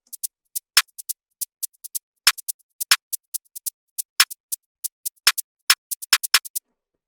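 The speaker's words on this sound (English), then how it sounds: "After the hi-hats, you've got this snare." Programmed snare in a light drill beat strikes sparsely among a rapid pattern of crisp, bouncy hi-hat ticks, every hit dry and close, with no other sound in between.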